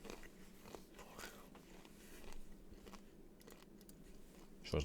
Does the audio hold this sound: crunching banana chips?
yes